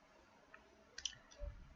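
A computer mouse clicking, a couple of quick faint clicks close by in a quiet room with no talking.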